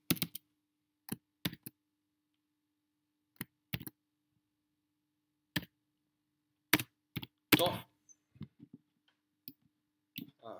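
Someone types on a computer keyboard in a quiet room, producing sparse single clicks and short bursts of keystrokes spread irregularly over several seconds.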